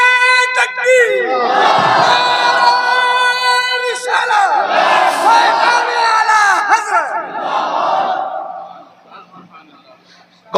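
A large crowd at a religious gathering roars a takbir chant in unison, loud and close, in two swelling waves that fade out at the end.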